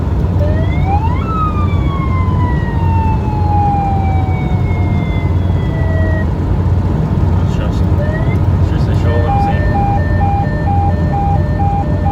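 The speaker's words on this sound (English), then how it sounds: "Here's another siren." A Toyota HiLux's aftermarket siren wails with rising and falling sweeps, then switches to a rapid pulsing tone, heard over loud steady road and wind noise through a cracked window.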